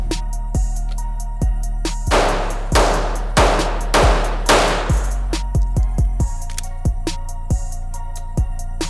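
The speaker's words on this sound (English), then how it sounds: "it's going to be 5 slow fire rounds from the holster" Pistol shots are fired slowly, one at a time, at a shooting range, with sharp reports spaced roughly half a second to a second apart over steady background hum, mixed with other distant range gunfire.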